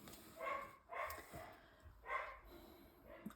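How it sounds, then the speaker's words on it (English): A dog barking indoors at something outside, a handful of muffled woofs and yips spaced irregularly, heard at a moderate distance and fairly quiet. "I'm so sorry, that is my dog"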